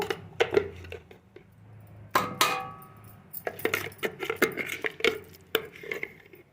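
Ground tomato chutney scraped out of a grinder jar onto a plate: a run of sharp metallic scrapes and clinks against steel, close and irregular, with brief quiet gaps between strokes.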